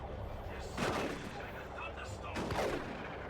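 Shotgun fire in a Warhammer 40k: Dawn of War 2 multiplayer battle, two heavy booming blasts about a second and a half apart over a constant rumble of combat noise.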